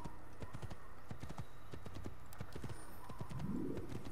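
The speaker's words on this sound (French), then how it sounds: "ralentissez pour arrêter le cheval" Horse hooves clip-clop steadily in Assassin's Creed as a rider slows the mount to a stop, a continuous rhythmic trotting with a brief snort or whinny near the end.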